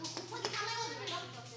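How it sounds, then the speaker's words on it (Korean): Children at a Sunday elementary church service clap their hands in a quick burst of several claps, mixed with kids' voices and a steady hum underneath, fairly faint overall. "박수."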